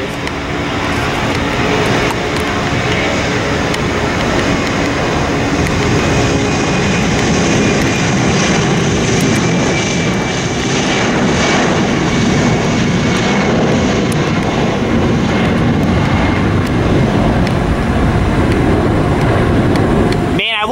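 A loud, sustained Airbus jet airliner engine roar fills the scene, a powerful continuous drone as it takes off nearby from Lindbergh Field, San Diego.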